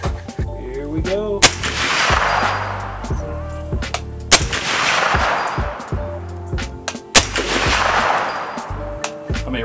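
Three loud, sharp rifle shots from a Q Fix 6.5 Creedmoor crack out at an outdoor range a few seconds apart, each followed by a ringing decay and faint metallic clinks in between.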